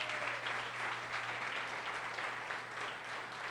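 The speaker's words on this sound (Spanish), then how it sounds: "Dele la ofrenda de aplauso al Señor." A church congregation at Iglesia El Shaddai Rey gives a sustained round of applause, dense overlapping clapping at a moderate distance with no talk over it, plus a low steady hum underneath.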